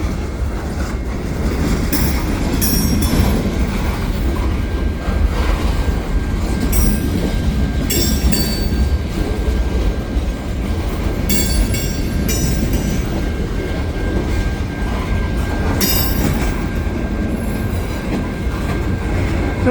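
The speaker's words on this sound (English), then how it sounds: "And the double stack is still going." A CN double-stack freight train rolls past steadily and loudly in winter, continuous rail rumble with repeated clickety-clack wheel beats and occasional high squeals across the whole stretch.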